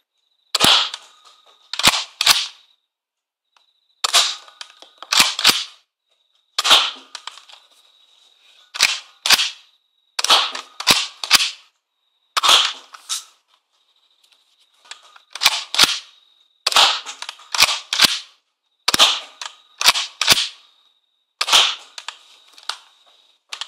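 A modded Nerf Rebelle blaster firing darts through a chronometer, sharp snapping shots with an electronic beep tone, about ten bursts spaced a second or two apart, loud and close against silence.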